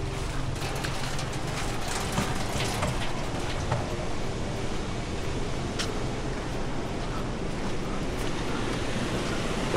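A river rushes steadily beside a riverside campsite at Pos Kuala Mu, a constant broad watery roar with occasional splashy clicks, continuous and fairly close throughout.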